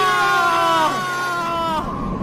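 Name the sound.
man screaming in agony after drinking poisoned sherbet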